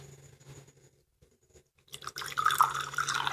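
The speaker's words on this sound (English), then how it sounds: "I'm pouring the water into this cup." Water pours from a jug into a cup, a close splashing fill that begins after a quiet start and runs steadily for the last second and a half, alone.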